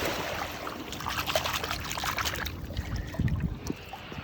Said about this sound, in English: let's give it a little wash up